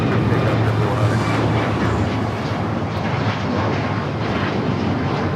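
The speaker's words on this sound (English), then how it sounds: "This is Alaska Airlines 1430 taking off to Puerto Vallarta on the MAX 9." An Alaska Airlines Boeing 737 MAX 9 bound for Puerto Vallarta takes off from LAX, a loud, dense, continuous jet engine roar that stays steady throughout.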